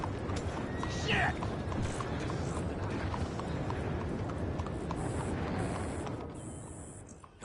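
Horse hooves clip-clopping in the video game Red Dead Redemption 2: a steady, rapid stream of close, loud hoof beats over a dense, busy background, continuing for most of the stretch before easing off near the end.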